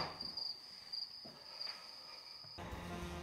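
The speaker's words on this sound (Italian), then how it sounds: "ascoltando il frinire dei grilli sul far della notte" Crickets chirp at nightfall along a mountain walking route, a steady high pulsing trill in short bursts under a faint background hiss, moderately distant and soft.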